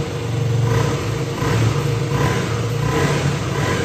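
A 2012 KTM Duke 125 four-stroke motorcycle engine runs close by, rising and falling through a few throttle blips over a steady idle, loud and with no talking.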